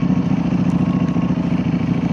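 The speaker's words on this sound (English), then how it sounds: "That normal Ducati chug-a-lug clug" A 2025 Ducati Panigale V4 superbike idles with a loud, close, lumpy rhythmic chug, steady pulsing exhaust throbbing throughout on a cold day.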